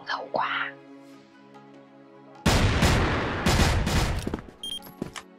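AK rifle fire in a shooting video game, a brief sparse stretch with a voice, then sudden loud bursts of rapid gunfire in several clusters, with scattered players' chatter underneath.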